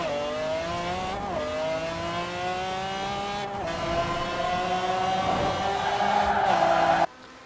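A high-horsepower supercar in the racing game Forza Horizon 4 roars as it accelerates hard, its engine pitch climbing and dropping at each gear shift, loud and continuous until it cuts off abruptly.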